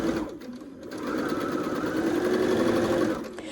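Quilt seams stitched on a sewing machine, a steady whirring run that speeds up and holds for a couple of seconds before easing off, close and clear without talk.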